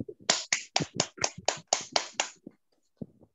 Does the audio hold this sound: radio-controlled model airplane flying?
no